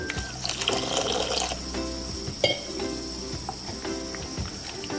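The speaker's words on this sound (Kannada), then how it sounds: "ಇನ್ನೊಂದು ಕಾಲು ಕಪ್ನಷ್ಟು ನೀರನ್ನ ಆ್ಯಡ್ ಇದ್ದೀನಿ" Water poured into a pressure cooker while making pulsu, a short liquid splash and trickle mixed with light metallic clinks, quiet and close.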